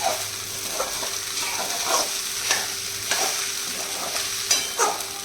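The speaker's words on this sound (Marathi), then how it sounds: "5 मिनिटं तरी परतून घ्यायला आणि फुलला पाहिजे साबुदाणा" Sabudana khichdi with potato being stir-fried in a pan, with a spatula scraping in steady repeated strokes over a soft, continuous sizzle, close and alone without any talk.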